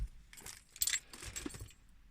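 Car keys jangle and clink as they are pulled from the ignition of a Zafira Tourer after its engine is cut, a short metallic rattle in two bursts close to the microphone, with no talk.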